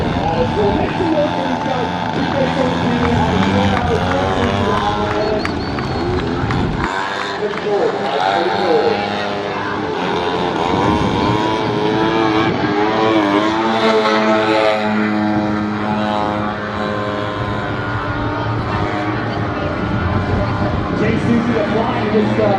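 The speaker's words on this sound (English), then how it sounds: "we have a twin-engine foam Otter doing the exact same thing" Twin-engine foam Otter RC model plane flying aerobatics at an outdoor demo, propeller buzz rising and falling in pitch as it passes, with loud announcer talk over it throughout.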